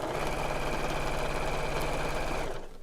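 A sewing machine stitches steadily through foam seams, a loud, close, continuous mechanical whir with a rapid rhythmic needle beat that runs for a couple of seconds and then stops abruptly.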